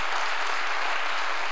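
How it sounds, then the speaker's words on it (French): Audience applause at the Étoiles de l'Europe 2018 trophy ceremony, steady dense clapping filling the whole short stretch at moderate loudness, with no talk over it. "on a besoin de toute votre chaleur humaine et vos applaudissements"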